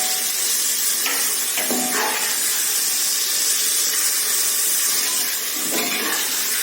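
Sliced tomatoes sauté in a pot for chicken biryani with a constant soft hiss of steam and sizzle, and a few faint scrapes of stirring sound over it.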